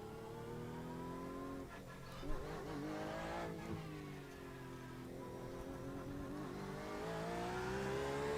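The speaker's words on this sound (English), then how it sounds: "There's a car approaching." A race car engine in a racing video game drones with steady, layered harmonics, its pitch shifting as it revs and the car approaches, sustained throughout at a fairly faint level.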